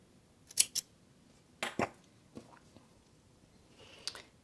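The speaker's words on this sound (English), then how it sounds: "you can cut the yarn." Scissors snip through acrylic yarn while seaming a pointy elf hat made on a Sentro knitting machine, giving a few short, quiet close cuts and rustles separated by pauses.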